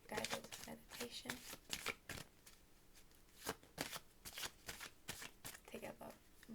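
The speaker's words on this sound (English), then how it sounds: "My cards are all shuffled." Tarot cards are shuffled by hand in a run of quick papery riffles and slaps, close and fairly soft, with a short pause midway before the shuffling resumes.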